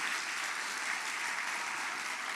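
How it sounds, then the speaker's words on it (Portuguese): A church congregation applauds during a sermon, with steady, dense clapping at moderate level filling the whole short stretch and no voices on top. "Dê um aplauso a Jesus."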